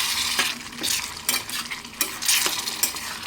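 Egg tomato curry stirred in a pan with a spoon: rhythmic scraping strokes about every half second over a soft frying sizzle, close and fairly loud, with light metal clinks and no voices.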